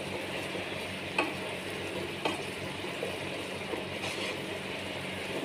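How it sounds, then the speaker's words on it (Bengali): Chili flakes being stirred into chicken gravy frying in a pan, a steady sizzle with a few faint scrapes of the spoon against the pan, with no talking. "এবার এটা দিয়ে একটু নাড়বো।"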